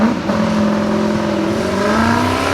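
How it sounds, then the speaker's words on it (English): A race car at the Carlisle Ford Nationals 2020 street shootout track race, loud and close, its engine note climbing steadily as it accelerates down the straightaway. "Accelerating down the straightaway."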